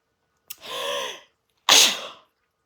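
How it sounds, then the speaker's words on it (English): A woman sneezes twice at close range, the first a drawn-out sneeze with a breathy buildup, then a pause of about half a second before a sharper, louder second burst, with silence around both. "I need to sneeze."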